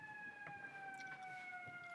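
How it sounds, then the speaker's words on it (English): A siren wails outside with a steady, slowly falling tone and strong harmonics, distant and fairly faint, with no talking over it. "Yep, that's a loud siren for sure."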